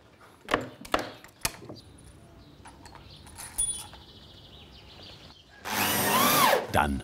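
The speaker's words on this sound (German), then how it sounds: "Dann wird geschraubt." Reinforcements being screwed onto the bottom of a wooden boat. A few sharp knocks and clatter lead into a loud power-driver whine near the end, with quieter workshop noise between.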